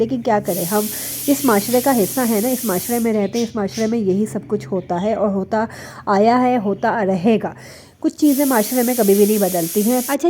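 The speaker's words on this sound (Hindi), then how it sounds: "यहाँ पर कुछ क्लिप्स में आप लोगों को जो है पीछे से कुकर की सीटी की आवाज़ आ रही होगी" A pressure cooker whistle hisses in a home kitchen in the background, with bright bursts at the start and end beneath continuous talk.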